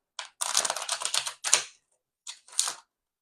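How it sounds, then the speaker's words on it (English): Rapid papery riffling in a few quick bursts as a tarot deck is shuffled up close, with a short pause before a final brief flurry. "Let's go ahead and give this a quick shuffle or two."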